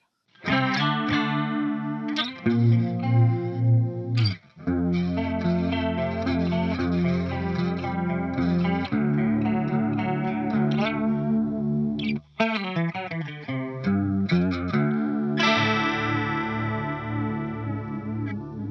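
Electric guitar on the bridge humbucker through a Pogolab chorus pedal (Boss CE-2 clone), shimmering and slightly distorted, playing a continuous riff with chords and single notes, no voices.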